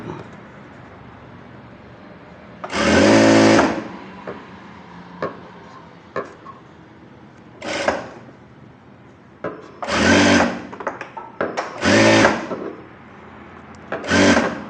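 A tailor's sewing machine stitches a puffed blouse sleeve in short, loud runs of about a second each, separated by quiet pauses and faint handling taps.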